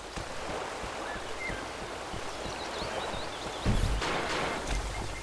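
A stream flows steadily in the Ultrakill video game, a constant soft watery rush with a brief louder splash of turbulence near the end.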